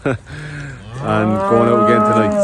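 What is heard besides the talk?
dairy cows mooing in the field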